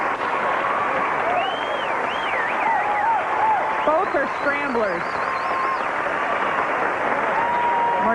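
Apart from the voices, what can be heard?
tennis crowd applause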